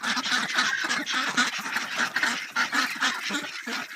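A flock of ducks or geese honks and quacks continuously, many overlapping calls close by in a noisy, busy chorus.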